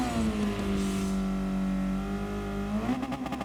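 A race car engine in the video game Gran Turismo 7 holds a loud, steady drone, then revs and climbs in pitch near the end, with no voices over it.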